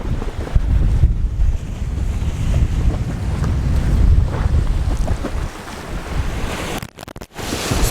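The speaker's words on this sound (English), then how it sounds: "I don't know if y'all can hear, but strong ass wind, guys." Strong wind roars steadily across the microphone on a boat during sheepshead fishing, a loud close rumble with gusts and water slapping beneath, with no talking.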